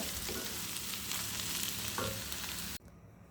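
Rotis deep-frying and puffing up in hot oil, a steady close sizzle and crackle that runs on continuously, then cuts off abruptly near the end.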